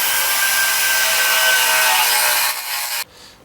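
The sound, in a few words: power drill drilling into wood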